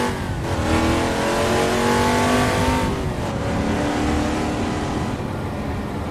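A mid-engine classic sports race car in a VR racing game revs hard, its engine note climbing and sliding through gears continuously and loudly for several seconds, with no talking.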